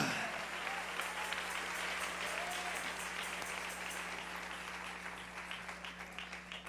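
Steady applause from a church congregation during a worship service, a continuous wash of clapping heard at a distance with a low hum underneath.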